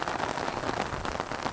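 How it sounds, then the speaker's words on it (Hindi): Heavy rain drums steadily on an umbrella overhead during the Karma Puja festival in Ranchi, Jharkhand, a dense, continuous patter close by. "दोस्तों बारिश काफ़ी तेज हो गया है, जोर से पड़ने लगा है"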